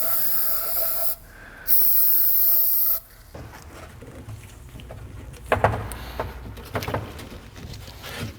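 Short bursts of silicone lubricant sprayed onto rubber parts while fitting front coil springs and struts on a Ford Fox Body Fairmont, two close hissy blasts followed by quieter clanks and handling noises.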